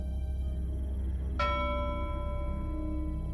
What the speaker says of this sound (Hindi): अचानक पुराने लाइट हाउस के अंदर से घंटी बजने की आवाज आई।